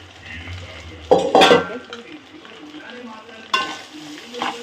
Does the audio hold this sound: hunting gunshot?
no